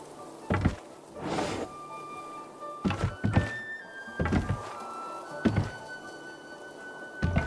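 Door interaction in an Unreal Engine video game with spatial audio: a series of dull wooden thunks and knocks at irregular intervals, moderately close, with no talking.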